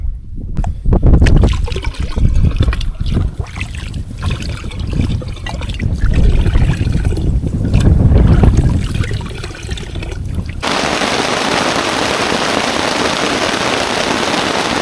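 Heavy rainstorm with wind in a forest campsite, a loud steady wash of rain and gusts filling the whole stretch, shifting into an even hiss of downpour near the end.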